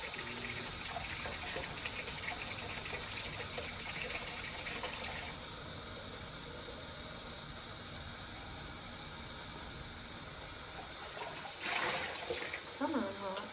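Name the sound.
tap running hot water over plastic cups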